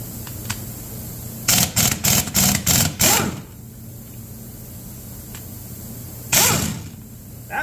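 Rapid ratcheting bursts from a metric socket ratchet working bolts loose during a teardown of a Ford 429 police interceptor engine: a quick run of about six clicking pulses, then a single longer burst a few seconds later, close and fairly loud.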